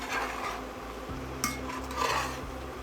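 Beef pieces sizzle steadily in hot oil in a pan while being stirred and turned, with scraping utensil strokes against the pan and a couple of brighter clinks over the continuous frying hiss.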